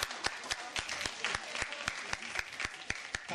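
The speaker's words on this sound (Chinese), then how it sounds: "我们给自己一个掌声" A seminar audience in a hotel hall claps together in an even, rhythmic beat, sharp individual claps falling about four per second for a few seconds.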